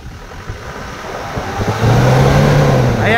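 Isuzu Sportivo 4JA1 turbo diesel engine idling close up, then revved hard toward 4,000 RPM, the roar rising and holding loud to the end.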